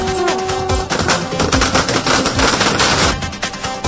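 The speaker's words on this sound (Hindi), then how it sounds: "स्वागत में ढोल नगाड़ों के साथ जमकर आतिशबाजी की गई।" Dense fireworks crackle in rapid, overlapping bursts at a BJP state president's welcome celebration, with drums alongside; loud, continuous popping and banging throughout, no talk.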